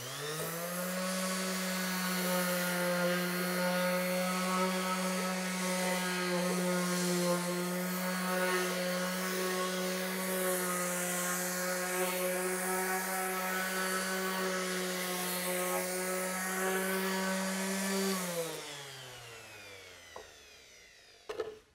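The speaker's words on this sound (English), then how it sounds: "that allows the dust to flow through the sander and into the dust collection bag" A power sander fitted with a dust collection bag works wood with a loud, steady, close whine and hum that holds evenly for about eighteen seconds, then winds down and stops.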